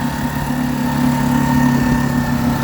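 A small Honda 5-horsepower outboard motor on an 8-foot dinghy is revved up a little to warm it, giving a steady, close, loud droning hum that rises slightly in intensity midway.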